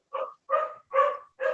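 A dog barks four times in quick succession, short and close, with brief silences between each bark.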